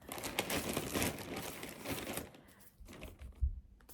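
Crinkly plastic drawstring trash bags rustle and crumple up close for a couple of seconds, then quieter handling with a soft thump near the end.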